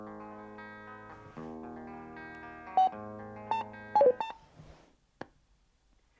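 A Cardo PACKTALK Bold motorcycle headset emits a few short, clean electronic beeps, clear and close, following a soft musical tone, with no voices.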